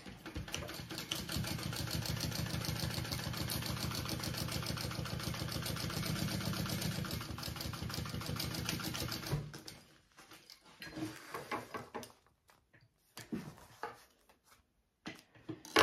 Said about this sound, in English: Right sides together,